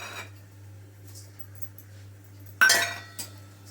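Grated dry whole coconut roasting in a pan, with a utensil giving a brief loud scrape and clink against the metal partway through and a smaller knock after it, over a quiet steady hum.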